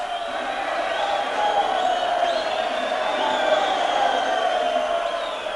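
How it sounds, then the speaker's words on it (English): A huge crowd in Rhodesia gathers to welcome home the returning candidate Mugabe, a dense, steady roar of many voices with cheering swelling and falling, continuous and fairly loud throughout. "The biggest crowd ever seen in Rhodesia welcomed home the candidate most feared by the whites"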